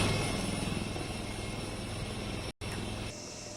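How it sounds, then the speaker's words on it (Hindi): An indigenous Light Combat Helicopter flies close and loud, its rotor chopping in a steady rapid rhythm over a constant engine whine, with a brief cut near the end. "लाइट कॉम्बैट हेलीकॉप्टर ये इंडिजिनस हेलीकॉप्टर है"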